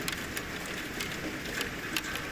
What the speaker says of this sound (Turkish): İnanılmaz yağıyor.